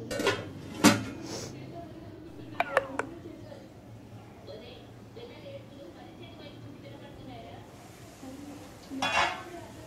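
Beetroot, green peas and tomato rice mixture being stirred in a pot, with a few scraping clinks of a utensil against metal early on and near the end, soft kitchen background between.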